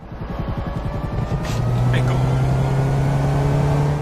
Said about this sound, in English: The Dilettante, the in-game Prius clone, initially runs silent until you aggressively accelerate, at which point the engine kicks in